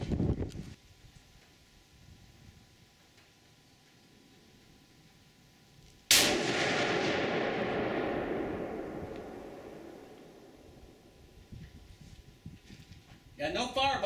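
A single sharp .50 BMG rifle blast strikes a bowling ball outdoors, a sudden loud crack followed by a long rolling decay of several seconds, with quiet wind noise before and voices near the end.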